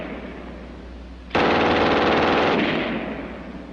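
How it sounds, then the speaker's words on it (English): German MG 42 machine gun on a tripod fires one sustained rapid burst, a loud dense ripping roar that starts abruptly and trails off into echo. "And last, the German 42 on the tripod."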